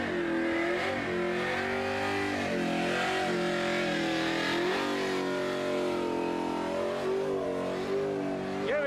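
A big Chrysler doing a burnout at the Summernats burnout eliminations revs hard, its loud engine rising and falling in repeated surges throughout with a steady crowd roar behind.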